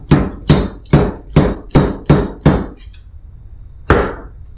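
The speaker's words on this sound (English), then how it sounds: "Now we put the dust seal on." Fork dust seal tapped into place on a 2007 BMW F650GS motorcycle fork, a run of seven sharp, evenly spaced hammer-like knocks, then a pause and one final strike, close and loud.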